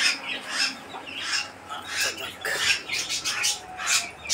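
Chickens of a breed brought from Europe cluck and squawk nearby on a farm, repeated short bursts in an uneven rhythm, with faint background murmur.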